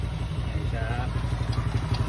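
A motorcycle engine idles steadily on its battery, a low continuous throb with light clatter running the whole time, while a person speaks briefly over it.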